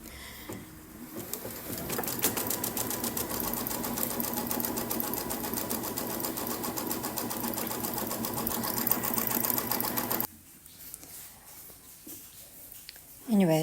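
An embroidery machine stitches a placement line on fabric in a hoop, making a steady, fast mechanical needle chatter that runs for about ten seconds and then stops, leaving quiet room noise.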